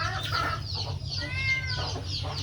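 Chickens on a farm cluck and chatter close by in quick overlapping calls over a low steady hum.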